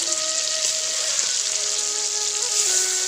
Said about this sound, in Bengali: এটা আমি দিয়ে এখন মাংসটাকে কষিয়ে নেব।